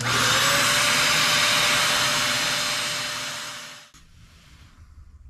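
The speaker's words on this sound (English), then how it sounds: "And I always like to vacuum." A vacuum cleaner used on an Apertura CarbonStar 150 Newtonian telescope gives a loud, steady whooshing drone close by, which winds down and cuts off near the end, leaving faint room noise.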